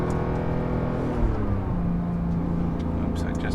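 A Porsche GT3 Touring set to sport exhaust revs and pulls from inside the cabin, the engine note rising and shifting in a smooth sweep, with some talk in the car.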